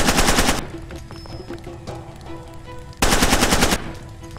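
Automatic gunfire in the video game Far Cry 2, two loud rapid bursts of machine-gun shots at the start and near the end, separated by a quieter stretch of game ambience and faint distant shots.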